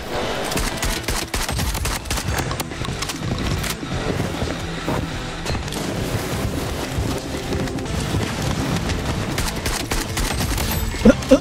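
Shotgun fire in Blood Strike, dense and loud, with rapid overlapping shots and impacts mixed into busy game noise throughout.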